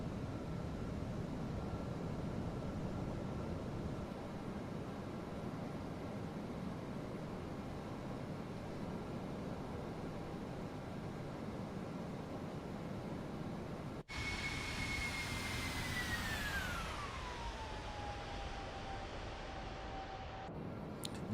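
Aircraft engine in a flight simulator game, cruising through snowy canyon country. A steady, broadband drone holds for about fourteen seconds, then cuts to a higher whine whose pitch glides down and settles. It plays alone, with no talk.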